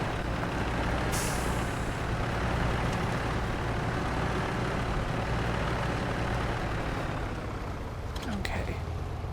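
Heavy truck engine in the video game SnowRunner climbing over rocks, a steady loud diesel rumble with a hiss burst early on and clanking near the end.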